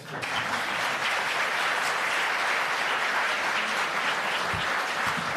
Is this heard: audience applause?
yes